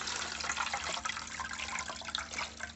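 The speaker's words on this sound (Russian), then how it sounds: "И заливаем мою орхидейку." A water solution is poured over a potted Dalmatian orchid, producing a soft, continuous splashing trickle, close and fairly quiet, with a faint steady hum in the background and no voices.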